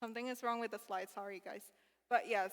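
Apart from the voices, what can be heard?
No distinct noise like a dog, phone or traffic.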